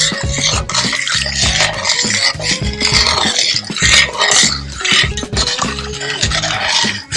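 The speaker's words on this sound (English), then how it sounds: "So we're going to stir in the baking soda." Baking soda is stirred into a runny homemade deodorant mixture of oils, producing loud, close, rhythmic scraping and stirring strokes against the container that continue steadily, with no talking.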